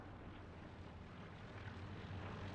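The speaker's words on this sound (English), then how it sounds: "Recon planes coming in again" A recon plane drones overhead on a battlefield in the World War II shooter Hell Let Loose. It is a faint, steady, continuous engine hum that holds level throughout, with no voices.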